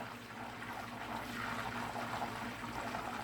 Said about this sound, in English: And you hear the sound? That is the water evaporating.